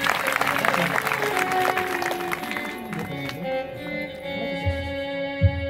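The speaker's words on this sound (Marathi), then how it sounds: "त्यांच्यासाठी एकदा जोरदार टाळ्या." A crowd claps at a devotional Harinam Saptah gathering in Khed taluka, with dense applause fading into scattered claps and a few loud nearby thumps toward the end.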